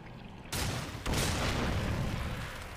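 Gunfire in Darksiders 2 as a loud burst erupts after a quiet half second, with a second heavy blast about a second later, then a sustained roaring wash of shots and impacts.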